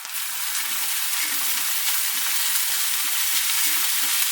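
Small and large onions sauté in a pan of hot oil, a dense, even hiss that stays close and constant throughout.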